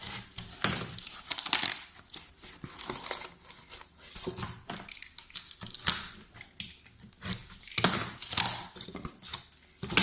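Cardboard is cut for a rocket model: a series of close, uneven scraping and crunching strokes with short pauses between them, running through the whole stretch with no talking.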